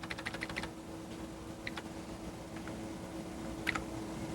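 Typing on a computer keyboard in a DECwindows workstation setting: bursts of rapid key clicks at the start, then scattered single keystrokes over a steady electronic hum, fairly faint and with no talking.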